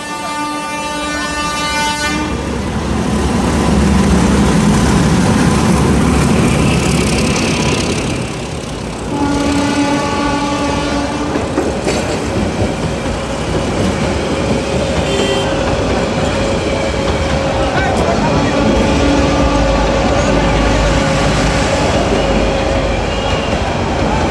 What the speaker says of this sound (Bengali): ট্রেনটি এখন জুরেন রেলগেট থ্রু পাস করে যাচ্ছে